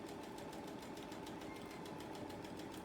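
A sewing machine stitches quickly along a quilt seam, a faint, rapid, even mechanical clatter with a regular pulsing rhythm, running steadily without pause.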